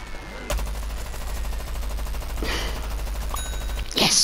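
Steady rapid-fire popping from a Gatling pea shooter in a plants-versus-zombies style game, a continuous rattling stream of shots with a couple of sharper bursts near the start and end.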